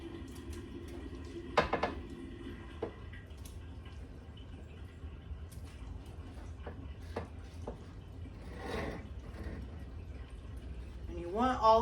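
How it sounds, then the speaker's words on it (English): A utensil scrapes caramelized onions and their juice from a pan into a chicken noodle soup pot, with scattered clinks and scraping knocks, a brief rattle near the end, and a faint low background hum. "Trying to make sure I kind of scrape everything down in there."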